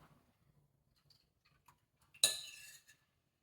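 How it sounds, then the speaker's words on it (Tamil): Carrot tomato rasam being poured and strained through a medium-mesh strainer in a home kitchen, a single close splashing pour of liquid lasting under a second after faint clinks of utensils, with no talking. "நான் வடிகட்டிக்கிறேன்"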